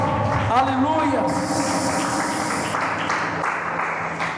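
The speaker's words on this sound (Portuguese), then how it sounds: "Aplaudir o Senhor bem alto e bem forte, aleluias." Congregation applause in a church, a moderate, rustling clatter of many hands under a preacher's voice, which speaks over much of it.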